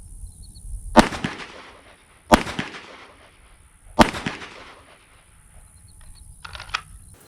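Three sharp pistol shots at a shooting range with a zip-line target system, spaced a second or two apart, each a loud close crack with a brief ringing tail, separated by quiet gaps and no talk.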